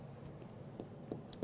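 Marker or chalk scratching out numbers on a board in a classroom lesson, soft and close, with a few brief strokes over a low hum.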